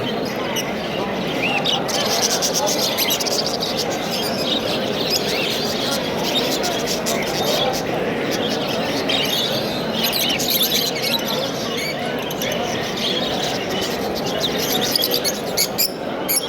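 Small birds chirp and tweet continuously amid the steady crowd noise of a bustling bird market in Namangan, with people talking throughout.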